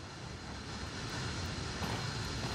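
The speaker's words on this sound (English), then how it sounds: "Sounds like that cargo plane's ready to fly" A cargo plane's engines roar in Tom Clancy's Ghost Recon Wildlands, a broad, steady drone that swells slightly, moderately loud with no speech.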